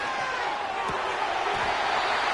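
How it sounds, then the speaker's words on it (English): Loud, steady roar of a stadium crowd at an American football playoff game between the Vikings and Bears on third down, with a couple of dull thuds within the din. "The crowd making their presence felt."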